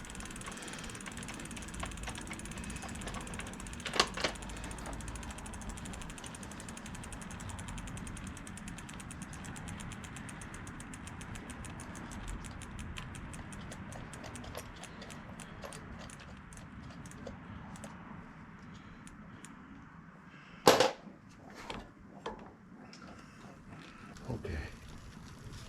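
Cheetah e-bike gears shifting during maintenance, heard as a long stretch of low mechanical whirring and ticking from the drivetrain, with a loud sharp click near the end and a couple more clicks after it.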